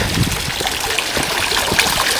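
Water flowing continuously at a quiet campus pond, a loud, close, steady trickle and gurgle with no voices.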